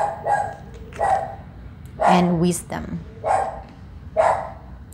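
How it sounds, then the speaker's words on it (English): A pet dog barks loudly and close by in a series of about six sharp barks, evenly spaced and cutting through while a person keeps talking. "I have to pause a little bit because my dog is making a loud noise"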